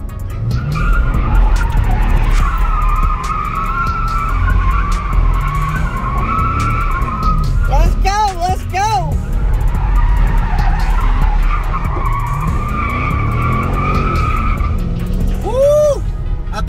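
A fifth-generation Chevrolet Camaro SS slides with tires squealing in long wavering bursts over a loud, steady engine roar, close by, with a few sharper squeals mid-run and at the end.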